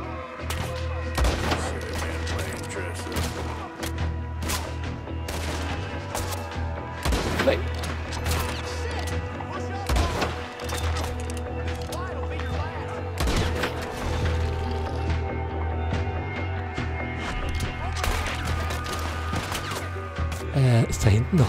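Repeated gunfire in Red Dead Redemption 2, sharp shots scattered irregularly over a constant low rumble and busy game ambience, with talk running throughout.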